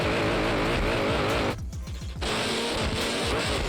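Car drifting in free roam in the DriftCE video game, a loud steady engine roar with tire squeal that briefly drops away mid-slide before surging back, no talking.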